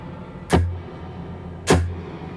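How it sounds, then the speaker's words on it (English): Two sharp plucked guitar hits about a second apart, each blooming into a bright wash of reverb set with a very high pre-delay after a short gap, the tail lingering quietly. "And then the pre-delay is very high, so you hit it and it takes a second to come in"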